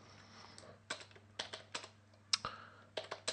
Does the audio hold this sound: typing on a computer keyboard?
yes